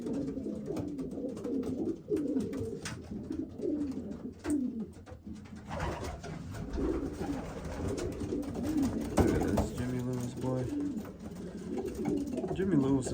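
Racing pigeons coo in soft, repeated throaty warbles, close by and continuous, with someone talking over them throughout.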